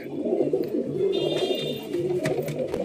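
Pigeons coo in low, rolling murmurs, several birds overlapping continuously close by, with a few light clicks and rustles.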